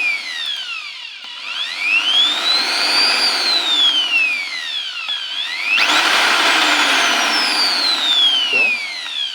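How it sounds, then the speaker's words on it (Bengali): An Xpart 850-watt hand drill runs continuously and loudly, its whining motor pitch rising and falling repeatedly as the speed is adjusted up and down, close and without talk. "ড্রিল মেশিনটির স্পিড বাড়াতে এবং কমিয়ে নিতে পারতেছেন।"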